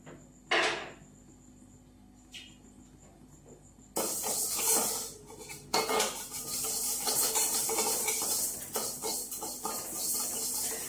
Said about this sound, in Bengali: দেখতে থাকুন, আমি ভাজছি ডালটা।